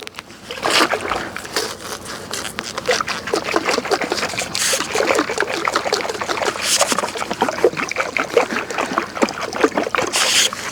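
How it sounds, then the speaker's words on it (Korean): Sugar and warm water sloshing inside a container as it is shaken to dissolve the sugar, a steady rattling, splashing wash of liquid that runs close and fairly loud throughout, with no talk. "그래서 이걸 이제 흔들어서 잘 녹여 주시면 되겠습니다"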